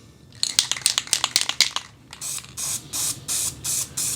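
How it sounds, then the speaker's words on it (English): Aerosol can of graphite spray paint coating truck rims: a burst of quick short spritzes followed by several longer, evenly spaced hissing sprays, close and clear with no talking. "Make sure it's spraying, not spitting."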